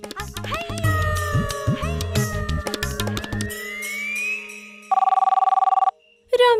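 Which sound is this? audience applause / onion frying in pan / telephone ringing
telephone ringing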